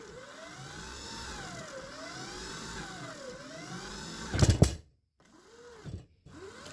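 A radio-controlled lawn mower whining as it accelerates and turns left, its motor pitch rising and falling in repeated sweeps, then a sharp loud burst, a brief silence and a softer final rev, all near and with no voices.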